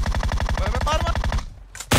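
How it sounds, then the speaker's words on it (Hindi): M249 machine gun fire in the video game PUBG Mobile, a fast steady stream of close loud shots that breaks off near the end before a single sharp burst. "सामने भी बंदा शूट कर रहा है दूर से"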